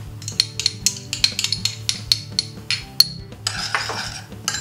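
A utensil clinks quickly and repeatedly against a small bowl while it mixes grated ginger, soy sauce and sesame oil, with close, bright taps and scrapes in an uneven rhythm. No one speaks.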